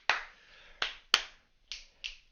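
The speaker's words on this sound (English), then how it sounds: "clapping." Five sharp hand claps ring out in a quiet room at an uneven pace, each crisp and fairly faint, with short decays between them.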